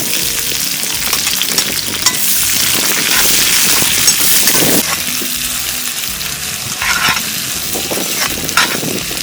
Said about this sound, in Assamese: এতিয়া আমি পিঁয়াজখিনি দি দিছোঁ।